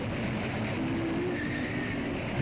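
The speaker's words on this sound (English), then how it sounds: "this is of course, a large train to introduce us into the segment we're about to see" A large model train runs on a layout in a department store model railroading display, giving a steady continuous rumble with a faint high whine, with no talk.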